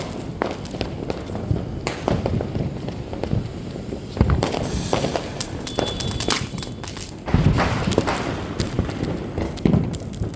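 Diwali firecrackers bursting in Chennai, a series of sharp bangs and crackles at irregular intervals, some close and loud, with scattered thuds in between.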